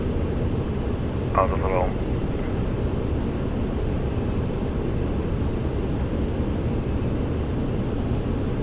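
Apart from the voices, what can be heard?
MD-11 airliner climbing in Microsoft Flight Simulator video game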